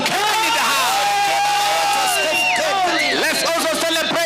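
A church congregation at a New Year service cheers loudly, with rising whoops and shouts forming a dense, sustained crowd roar that continues throughout, with some scattered clapping.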